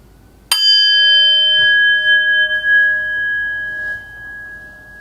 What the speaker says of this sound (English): in just a moment I will ring the bell